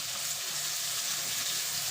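Green chillies dropped into a hot oiled pan while cooking a Bengali pui shak chorchori with mustard and poppy seed, a steady, loud, close hiss of frying with fine crackle throughout.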